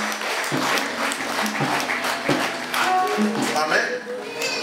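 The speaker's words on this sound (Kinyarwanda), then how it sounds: "ukomere Imana amashyi" Congregation clapping together in a church service, a dense burst of applause that stays loud and steady throughout, with voices and tonal sounds mixed in beneath it.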